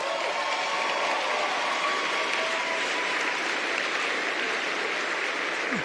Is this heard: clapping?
yes